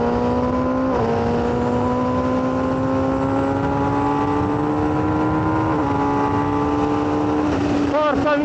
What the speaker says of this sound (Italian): questa è la colonna sonora che deve avere una moto sportiva per me